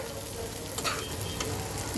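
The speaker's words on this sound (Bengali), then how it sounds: "আলু আর পটলটাও কিন্তু সুন্দর ভাজা ভাজা হয়ে গেছে" Potatoes and pointed gourd fry in a spice paste in a pan, giving a steady, close sizzle with faint stirring scrapes throughout and no talking.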